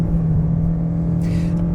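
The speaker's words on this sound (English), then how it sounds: "It's just that the engine is not keeping up." The engine of a 2024 Toyota C-HR hybrid SUV hums steadily under acceleration, with a loud, constant low drone and a brief whooshing swell near the end, and no talking.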